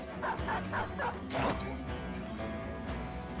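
A dog barks repeatedly in the Southern Company western game, several quick yips in a rhythmic burst amid game ambience and mechanical clatter, fairly close and moderately loud.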